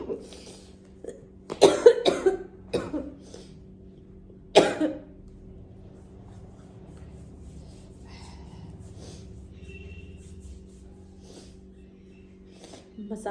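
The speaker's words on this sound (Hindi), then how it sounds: "खांसी खांसी खांसी" A woman with a cold coughs, several sharp coughs in a quick cluster near the start and another single cough a few seconds later, then quieter stretches over a low steady hum.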